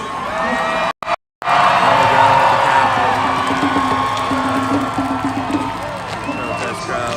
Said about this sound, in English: Protest crowd